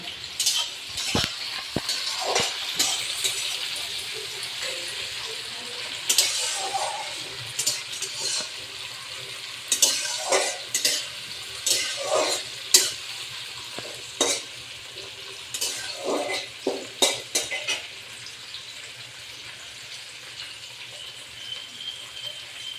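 Chopped tomato and three green chilies hit a pan of reddish-browned onion for a sea crab curry, giving a steady sizzle broken by scraping stirs and clinks through the whole stretch.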